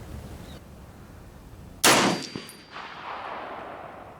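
A single sharp rifle shot, a fouling round fired at a shooting range comparing a K31 and a National Match M1A, cracks loudly and then rings out in a fading echo, with no talk around it.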